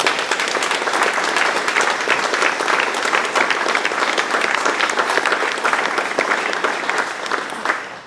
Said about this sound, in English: let's just give a round of applause to the people that do this work every day